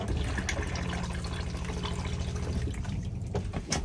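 Flush fluid runs into the toilet bowl of an AutoTrail Chieftain motorhome: a close, gurgling trickle with a low pump hum that stops near the end, followed by a few drips.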